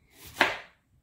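A knife slices through an onion on a cutting board for julienne strips, a single brief crisp chop, close and clear in an otherwise quiet kitchen.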